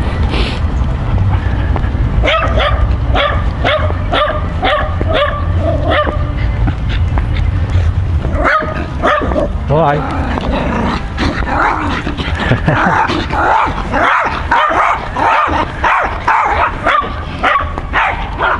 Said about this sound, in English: It's a very happy dog.